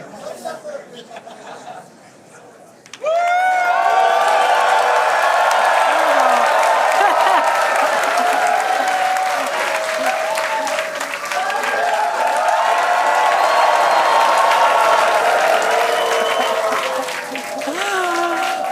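A crowd watching a SpaceX Starship test flight launch bursts into loud, sustained cheering and applause after a brief quieter moment with chatter, the roar continuing for many seconds.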